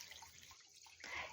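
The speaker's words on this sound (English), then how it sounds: "I'm going to pour 2 liters of water" Water poured into a big pot for ginseng chicken soup, a faint, close trickle and splash that briefly thins, then returns as a brighter, fuller stream at the end, with no talking.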